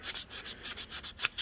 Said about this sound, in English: Just like 80 grit sandpaper.